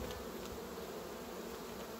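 A dense, steady buzzing hum of many bees inside a beehive, close and continuous throughout with no voices.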